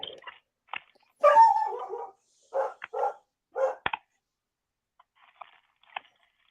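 A dog barks and yips in short, uneven bursts close by, with small whimpering sounds between the louder barks and quiet gaps.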